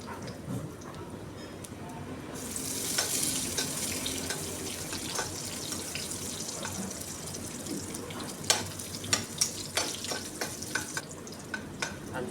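Ginger and garlic sizzle and fry in a pan with a steady hiss, joined midway by a louder sizzle burst and a few sharp stirring clinks of a utensil toward the end.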